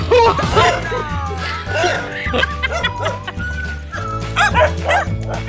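A dog barks repeatedly in quick yips and bow-wows, close by, outdoors near a rice field, over steady music and a bit of laughter.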